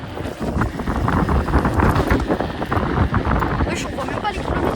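A Kukirin G2 electric scooter is ridden along a road, producing loud, constant wind buffeting against the microphone, with a voice talking through the roar.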